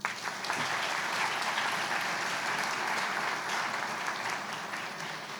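An audience at the opening of a law fair in Port-au-Prince applauds a lawyer being introduced, a steady wash of crowd clapping heard from some distance that lasts the full stretch without pause, with no talk over it.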